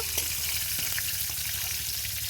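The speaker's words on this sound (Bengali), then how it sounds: "এবার আলুগুলো ভেজে নেব।" Potatoes frying in oil give a steady, close sizzle with faint bubbling and a low hum beneath, continuous for a couple of seconds with no voices.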